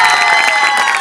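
An audience at a stage drama claps and cheers in a short, dense burst of crowd noise, loud and close.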